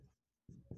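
Pen strokes scratch on paper during a maths lesson, two short close scraping bursts after a brief pause, with no voice over them.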